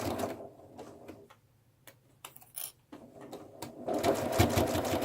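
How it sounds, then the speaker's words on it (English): Sewing machine stitching a quarter-inch seam through the layers of a fabric bunny gift bag, rapid mechanical chattering in short bursts with pauses between, close and fairly loud, no talking. "and I'm sewing through all the layers"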